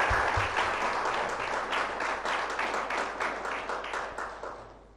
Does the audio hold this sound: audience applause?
yes